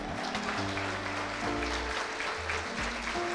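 At a university graduation ceremony, the audience applauds as graduates are called up, a soft, even patter of clapping running beneath steady low music throughout.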